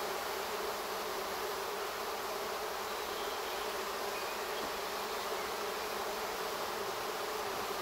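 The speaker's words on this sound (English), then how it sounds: "from one minute to the next, the whole garden was full of bees" A swarm of bees fills a garden with a dense, continuous buzzing hum that stays steady and close throughout, with no voices.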